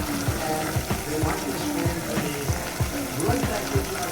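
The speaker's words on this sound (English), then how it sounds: "we're frying some festival, Easter festival" Jamaican festival dumplings fry in hot oil for Easter, a steady bubbling sizzle with soft periodic stirring or scraping knocks underneath, fairly close and continuous.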